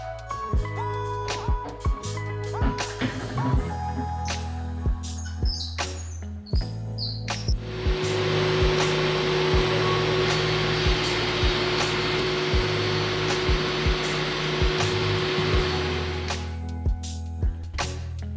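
Steady broadband roar of a woodworking machine milling timber stretchers for modular workbench cabinets, running loud and continuous for about ten seconds after intermittent knocks and clatter of shop work.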